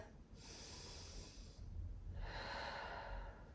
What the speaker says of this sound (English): And let's take some breaths.